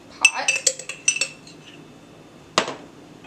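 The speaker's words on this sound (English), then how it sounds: "So I'm just going to be dropping the leftover bacon grease in this pot." A metal spoon clinks and taps against a soup pot in a quick burst of bright knocks as leftover bacon grease is dropped in, followed by a pause and one final sharp clink.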